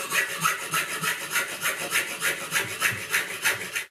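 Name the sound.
cutting a circuit board plate to size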